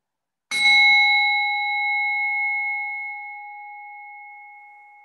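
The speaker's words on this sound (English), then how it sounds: "I'll ring the bell for a couple of minutes of rest and digest here" A single meditation bell struck once during a restorative yoga class, ringing out with clear bright tones that sustain and slowly fade over several seconds in a quiet room.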